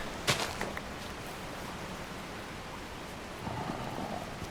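Steady rain falls in a Vintage Story–inspired survival video game, a dense even hiss over low rumbling. A sharp crackle near the start sounds like distant thunder, and there is a faint swell near the end.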